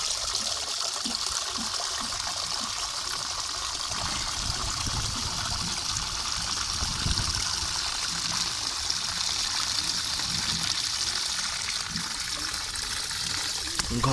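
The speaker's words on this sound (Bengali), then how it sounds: "পানিটা একটু ছেড়ে দিই" Tap water runs in a steady, continuous trickle and stream for pet pigeons beside a loft, with faint talk now and then over the flow.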